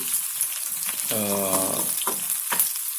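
Dried red chillies fry in hot oil for a tempering for tomato toor dal, giving a steady close sizzle with brief crackles and a short tonal whine partway through, no talking.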